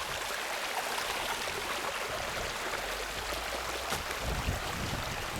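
Water runs steadily past a hiking trail near a lower water bar on the Starr Trail, a continuous broadband rushing that stays close and even throughout, with no voices.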